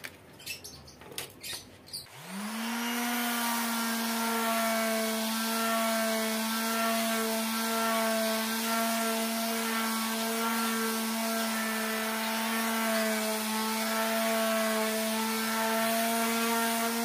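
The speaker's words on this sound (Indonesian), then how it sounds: "coba kita akan coba yang grade 100" A Stanley SS24 orbital sheet sander fitted with grade 100 sandpaper starts after a few brief knocks, then runs as a steady, close, even whirring drone with no pauses.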